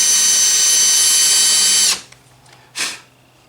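A power drill with a left-hand bit bores into a soft metal bolt, a loud steady high whine running for about two seconds before cutting off, followed by a brief second burst of the motor.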